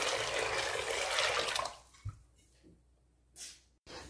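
Water running from a tap while soaked beans are rinsed for canning; a loud steady close stream for about two seconds, then stopping, followed by a few scattered drips and splashes.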